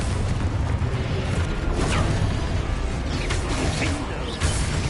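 The Confringo fire spell in Hogwarts Legacy, blasting out as a dense, loud explosive rush with booming bursts and swooshing over steady game noise.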